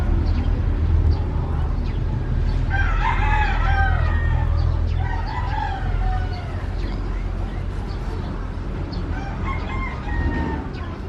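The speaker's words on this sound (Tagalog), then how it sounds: "This bird also loves to eat grass. Let's feed him." A chicken calls in a few loud clucking, crowing bursts at close range while being fed grass, over a constant low engine-like hum.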